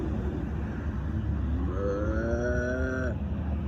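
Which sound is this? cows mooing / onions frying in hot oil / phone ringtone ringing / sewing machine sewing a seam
cows mooing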